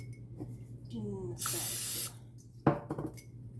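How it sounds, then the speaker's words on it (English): A short hissing burst of cooking spray into a cup lasting about half a second, followed by a light clink and faint clatter nearby; a low steady hum runs underneath. "we need to spray the inside of our cup like so."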